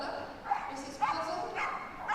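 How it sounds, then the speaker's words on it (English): An excited dog at the start line of a Crufts 2013 agility heat gives a few short barks and yips over a busy arena, with a commentator talking throughout. "a very excited dog waiting to go now"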